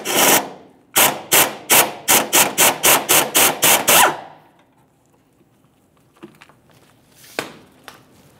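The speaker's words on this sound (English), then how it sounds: "Go ahead and remove the entire bracket." A tool works a 12 mm bolt holding a metal bracket under the rear of a 2008-2017 Mitsubishi Lancer 2.4L, giving about a dozen rapid loud ratcheting bursts, then quiet with a few faint clinks.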